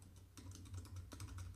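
Rapid typing on a computer keyboard, a steady run of soft clicking keystrokes close by with a low hum underneath and no voices.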